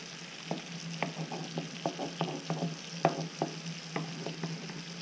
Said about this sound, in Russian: Хорошо вот так размешаем.